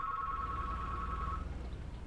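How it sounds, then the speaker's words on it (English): A phone ringer sounds as a single sustained electronic tone for over a second, then cuts off, leaving a low background hum; no talk over it. "my phone is ringing"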